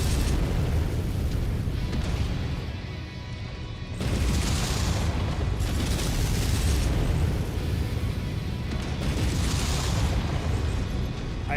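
Weapons fire from a Black Knight mech in the MechWarrior 5 video game: heavy, continuous booming blasts with rumbling low end, swelling in repeated waves close up, no talk.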